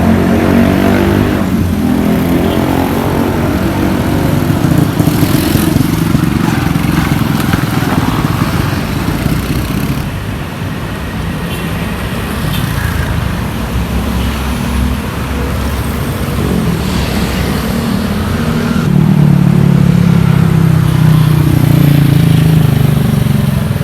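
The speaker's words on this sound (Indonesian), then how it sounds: "persimpangan traffic light terjadi penumpukan kendaraan" Congested traffic of cars and motorcycles at a busy intersection whose traffic lights are out, with engines idling, revving and passing close by in a continuous loud rumble.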